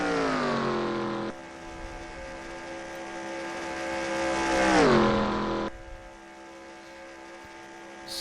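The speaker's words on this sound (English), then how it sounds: "letting that motor wind up as much as it possibly can" A race car engine in the NR2003 sim at Daytona International Speedway drones at high revs, swelling louder and dipping in pitch as a car passes, then cutting to a quieter, steady engine hum with no talking.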